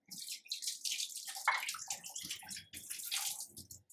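Tamarind being washed by hand in water, with a run of splashing, sloshing bursts close by, separated by short pauses.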